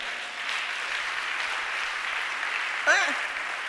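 Congregation applauding during a Sunday church service, a steady wash of clapping hands from many people throughout, with a brief whistle or cheer rising near the end.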